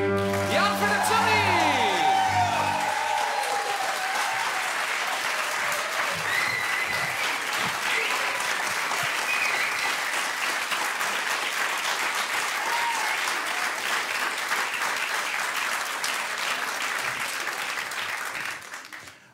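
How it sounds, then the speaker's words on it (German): A studio audience at the MDR comedy show Comedy mit Karsten applauds loudly and steadily for comedian Jan Philipp Zimny's entrance, the clapping sustained and dense after a short burst of stage music, fading off at the very end. "Ihr rastet total aus mit Schreien und Applaus"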